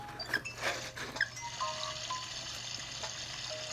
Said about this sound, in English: Hey, when you twist it, water's coming.